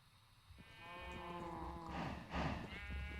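Sheep in Minecraft with the ATM10 modpack give a drawn-out bleat, then a second louder one overlapping it, fairly close and faint, with no speech.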